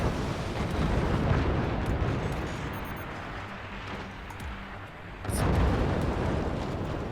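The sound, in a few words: artillery salvo explosions in the video game Forts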